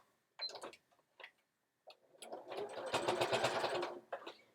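A sewing machine stitches along the edge of a fabric bag: a few short bursts of needle clatter, then a longer steady rapid run of stitching up close.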